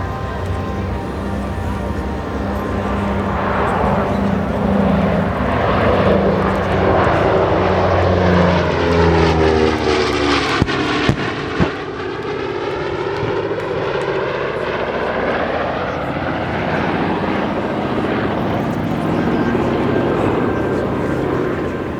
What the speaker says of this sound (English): From the left, one of 2 B-29s still flying in the world today.